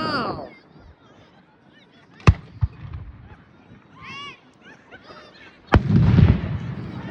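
Fireworks bursting at a senior sendoff, with two sharp booms early on and a louder, longer crackling blast near the end, set against crowd voices and honking.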